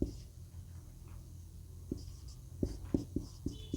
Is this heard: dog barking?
no